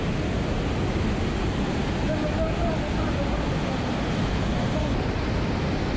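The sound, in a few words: rushing water at a waterfall in Maharashtra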